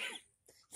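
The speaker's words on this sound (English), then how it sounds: "dry cough" A short dry cough bursts out, then a brief pause and another rough, throaty cough, close by and fairly quiet.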